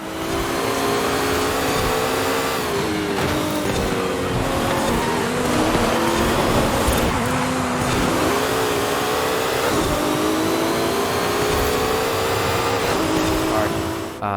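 A Ferrari in a first-person racing video game drives continuously with a loud, steady engine drone whose pitch rises and dips through gear changes, with tire noise throughout.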